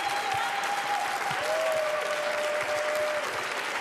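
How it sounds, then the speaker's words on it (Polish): Audience applause after an emotional televised stage performance, dense, steady clapping from a large crowd holding at even loudness throughout, with a faint tone running beneath it. "Amelia i Kasia, wielkie brawa za ten niezwykle poruszający występ"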